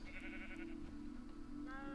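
Sheep bleat in the Minecraft video game, with a couple of wavering, nasal cries close by that come at the start and again near the end over a steady low background.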